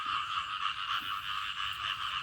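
Frogs croak in a dense, unbroken chorus in a forest after rain, a steady shrill trilling that holds at an even level throughout with no voices.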